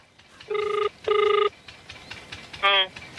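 An outgoing phone call rings back in three electronic tones, two long steady rings followed by a shorter warbling one, clear and close over faint room noise.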